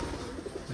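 Tumbler pigeons coo in a brief, close burst of soft, low rolling calls.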